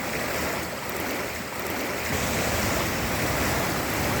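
Water in a creek rushes over rapids near a kayak put-in, a steady, loud broadband roar that holds without pause and with no voices.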